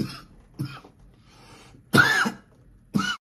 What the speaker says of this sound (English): I've been trying to hold this cough in